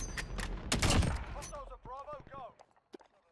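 Gunfire in an online video game, a few sharp loud bursts up front that are quickly overtaken by excited voices talking over the rest.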